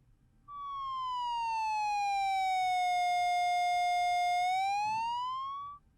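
Roland SE-02 monophonic synthesizer with feedback set to 4 and oscillators turned down, a loud pure siren-like tone whose pitch glides down, holds, then bends back up before cutting off.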